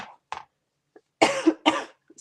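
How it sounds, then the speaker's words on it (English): A person coughs several times, short dry bursts close to the microphone with quiet gaps between them, during a card-making session. "I'm going to try not to cough through this."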